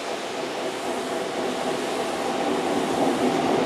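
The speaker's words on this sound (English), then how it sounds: "arriving now, the 1017 Great Western Railway service to Worcester Foregate Street" A Great Western Railway passenger train arrives at Keynsham station, heard as a close, steady rushing rumble of wheels and running gear with no pause.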